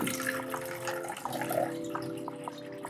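Water runs steadily from a tap while a clarifying shampoo formulation is started, a close, continuous splashing stream with a faint underlying tone and occasional drips, no talk.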